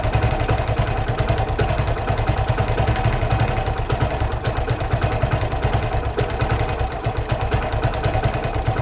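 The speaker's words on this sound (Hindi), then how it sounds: "तो ये मेरे बाइक की जो है आइडल स्पीड है।" A carbureted motorcycle engine idles steadily nearby, a loud, even low putter with rapid rhythmic pulses and faint mechanical clatter throughout.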